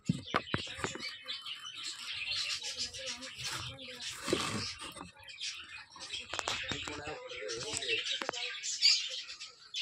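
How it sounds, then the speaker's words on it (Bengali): Pigeons in a backyard loft, including Giribaz and other fancy breeds sitting on eggs, give scattered chirpy calls and soft rustling throughout, with someone talking over them. "এখানে দেখছেন আর গিরিবাজ পায়রা,"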